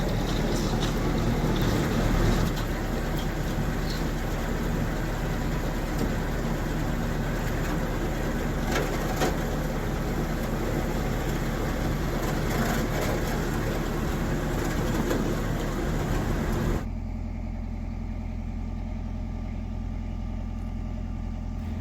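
A canal boat pushes through very thin ice, giving a continuous, loud grinding rumble with engine drone that runs steadily, then drops to a quieter hum near the end.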